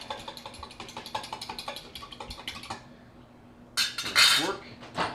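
Eggs with a splash of milk being whisked in a glass measuring cup, a quick run of rhythmic clinks and taps that stops, followed by a few louder scraping clatters near the end.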